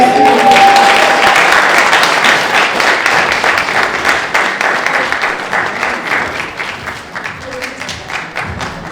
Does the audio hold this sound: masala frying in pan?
no